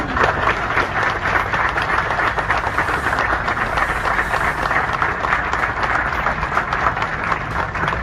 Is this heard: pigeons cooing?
no